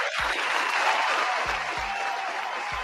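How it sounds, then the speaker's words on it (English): A steady canned applause sound effect fills the whole stretch, dense and even, punctuated by a few low thumps. "Standing ovation for that one right there"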